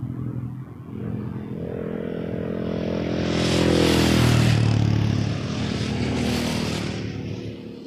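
A WestJet airliner landing on runway 24 left at Toronto Pearson gives a broad, steady jet roar that swells to a loud peak midway, with a falling engine tone, then eases slightly while staying strong.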